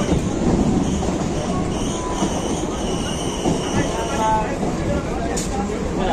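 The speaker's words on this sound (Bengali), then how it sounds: "আমাদের ট্রেন এসে পৌঁছালো মথুরাপুর স্টেশন" Local train rolling into Mathurapur station on the Sealdah–Laxmikantapur line, a steady loud rumble of wheels on rails with faint squeals and clatter, heard from inside the coach.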